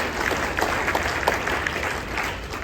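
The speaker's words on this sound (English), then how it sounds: "Good time to clap." An audience at a veterans appreciation event breaks into steady applause, many hands clapping close and continuous with a few louder individual claps, no speech over it.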